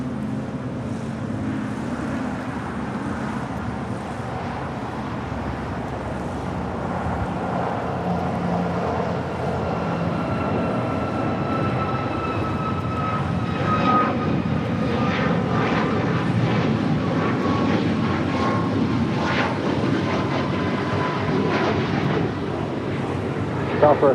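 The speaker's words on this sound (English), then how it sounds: "Next departure is Air Canada flight 778 heading to Montreal on a 737 MAX 8." An Air Canada Boeing 737 MAX 8 bound for Montreal departs LAX, its steady engine roar building and holding loud over 24 seconds, with whining tones drifting across it and some wind buffeting the microphone.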